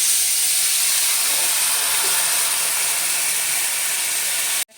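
Water poured into a hot pan with turmeric while cooking Bengali mustard hilsa hisses and steams steadily, a loud broadband sizzle lasting several seconds before cutting off abruptly.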